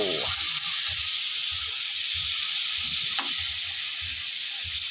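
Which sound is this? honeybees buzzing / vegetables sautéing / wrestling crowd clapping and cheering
vegetables sautéing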